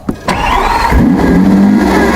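A Lamborghini Aventador SVJ V12 engine cranks with a couple of sharp starter bursts, then catches and settles into a loud, steady idle close by.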